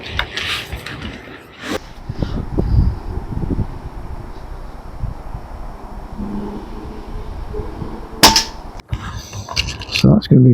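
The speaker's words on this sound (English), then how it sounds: "fire at the target and then fire at the point of impact" A Daystate Air Wolf air rifle fires pellets at a target, two sharp snapping shots separated by several seconds, heard outdoors over faint wind and handling rustle.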